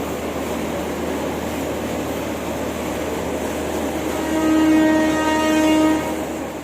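A train at Kampung Bandan station in Jakarta, preparing to depart toward Jakarta Gudang, rumbles steadily up close, then sounds a clear sustained horn blast near the end, with no talking.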